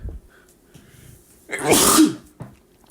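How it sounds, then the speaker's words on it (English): A single loud human sneeze, with a soft intake of breath before it and a quiet exhale after, close to the microphone in a quiet room. "I just sneeze"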